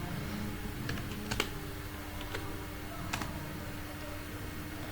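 Close computer keyboard typing, a few scattered keystrokes and short clicks over a low steady room hum, with no one speaking.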